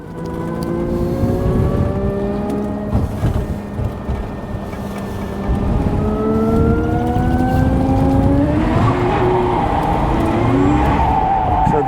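An MG Midget (Bugeye Sprite) engine revs through a corner while the inside wheel spins, a close, steady drone rising in pitch with tire scrabble underneath, building louder toward the end.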